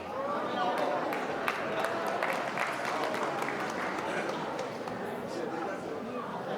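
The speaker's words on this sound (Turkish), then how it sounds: "Bu kadar cemaat alkış etti." Wedding guests applaud in a steady, dense wash of clapping that runs through the whole stretch, with voices mixed into the crowd noise.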